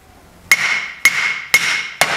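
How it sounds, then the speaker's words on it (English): Four sharp metallic hammer strikes on a VW Beetle front beam during disassembly land about half a second apart, each ringing briefly before the next hit, loud and close. "Just whack it here with a hammer, can you get in?"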